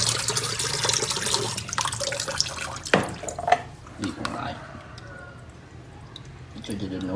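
Tap water runs and drips into a sink while glasses are washed, with splashes and light clinks of glass; a voice talks over the water at times.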